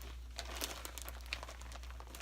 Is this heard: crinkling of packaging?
yes